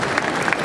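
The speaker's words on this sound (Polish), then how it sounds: "Raz jeszcze prosimy o wielkie brawa." Brief burst of audience applause at a Polish awards ceremony, a dense, steady patter of many hands clapping at once, fairly loud and close, lasting under a second.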